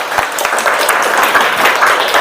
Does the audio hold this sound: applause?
yes